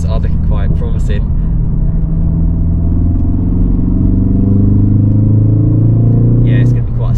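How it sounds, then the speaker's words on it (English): A Ford Focus ST engine rumbles loudly and steadily through its exhaust, a deep throaty drone with low harmonics rising slightly, with brief voices at the start and end. "I'm really liking the noise. Really liking the noise and the exhaust."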